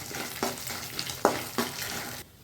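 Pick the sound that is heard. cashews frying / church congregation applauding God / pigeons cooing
cashews frying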